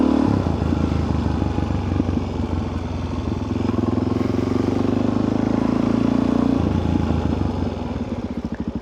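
A Suzuki DRZ 400 supermoto engine idles steadily up close after a cold start with the choke, a loud even thumping putter that barely changes throughout.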